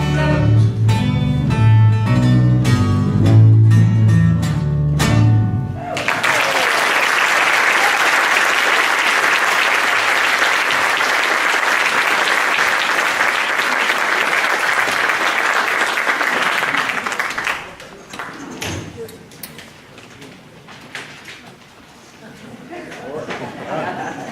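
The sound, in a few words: audience applause for entertainers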